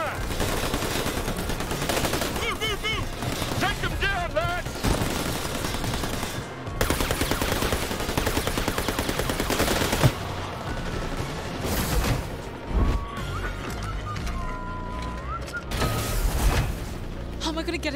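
Gunfire in New Tales From The Borderlands, with rapid automatic bursts and single shots over tense game music, while characters speak intermittently.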